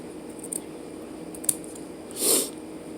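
Scissors snipping cotton wick for a Geek Vape Zeus dual RTA, a few small quiet clicks and one clearer snip over a low steady background hiss, close up with no voices.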